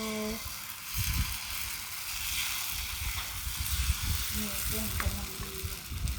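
Khanom krok batter sizzles and fries in a hot dimpled pan over a charcoal stove. A continuous, close crackling hiss carries throughout, with light clinks of stirring and a brief faint voice.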